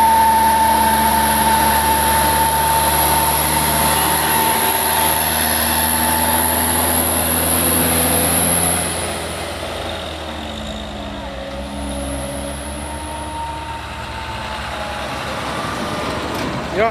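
Palm oil truck passing on a road, a loud engine drone with a whining tonal hum that fades after about nine seconds into a lower distant rumble.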